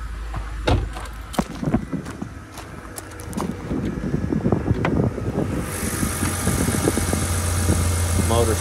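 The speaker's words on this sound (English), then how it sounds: "Motor sounds fantastic." A 2007 BMW 328i engine idles steadily with a low rumble and some mechanical clatter, joined by a higher whine partway through.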